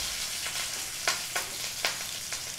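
Thin slivers of ginger fry in hot oil for ginger chicken, making a steady close hiss. A few sharper pops and spatters break through about once every half second.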